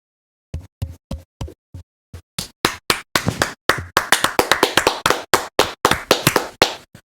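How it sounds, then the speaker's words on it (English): A few people clap sharply and irregularly, sparse at first and then faster and denser, close up and with no talking, as a small group gives applause for David Cross. "let's give him a quick round of applause to David Cross"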